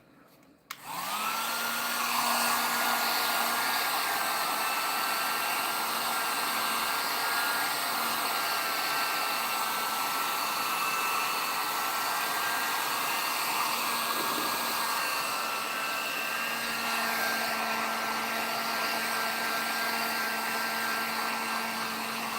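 A hair dryer blows on fresh paint on a model figure, switching on after a second and then holding a loud, steady, close whirring roar for about twenty seconds, alone with no talk.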